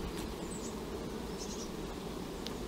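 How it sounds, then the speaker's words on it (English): Honey bees buzzing around an open beehive during a hive inspection, a soft steady hum from many insects with a few brief closer fly-bys, no talking. "Just be mindful of the bees."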